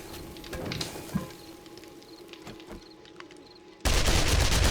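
Gunfire in the zombie survival game 7 Days To Die while defending a horde base: scattered sharp shots and bursts, then a sudden loud, dense blast of sustained noise near the end.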